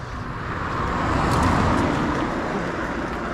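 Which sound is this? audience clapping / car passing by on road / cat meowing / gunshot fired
car passing by on road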